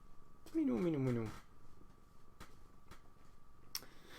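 A pet cat purrs softly while being petted, a faint low purr running under a brief voiced sound near the start, recorded up close in a quiet room.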